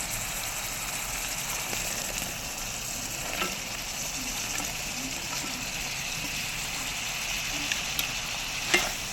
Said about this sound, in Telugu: ఇలా చక్కగా స్లో ఫ్లేమ్లో మొత్తం మసాలా అంతా ముక్కలకు కలిసే వాడిగా కలుపుకున్నాం ఫ్రెండ్స్